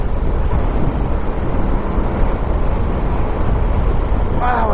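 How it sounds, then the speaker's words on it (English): Strong wind buffets the microphone during a BMW R1200GSA motorcycle ride, a loud continuous roar mixed with engine and road rumble that never lets up. "Wow, it's windy."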